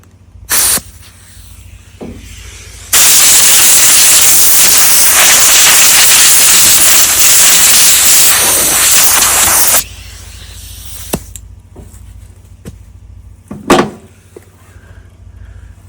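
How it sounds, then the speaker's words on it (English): Compressed air from an air compressor blasts loudly and steadily for about seven seconds, blowing parts clean on a 1987 Chevy K5 Blazer that sat for 22 years, with a brief short burst beforehand and clicks after. "I'm going to do that again before my compressor leaks all its air."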